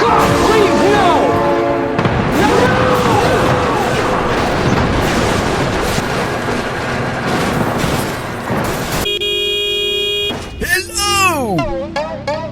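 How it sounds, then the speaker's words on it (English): A train in the BeamNG driving game sounds a long, loud, steady horn blast near the end, after a stretch of dense crashing and rumbling vehicle noise, with a person shouting excitedly over it. "Oh my god, train!"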